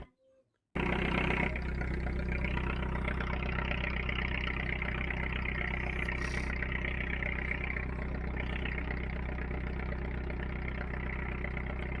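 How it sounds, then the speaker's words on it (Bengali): Ships pass along a river in the Sundarbans estuary, with a steady low engine rumble and drone that starts abruptly after a brief quiet and continues with faint chirps above it. "এখানে অনেকগুলি জাহাজ একসঙ্গেই যাচ্ছে দেখতে পাচ্ছেন"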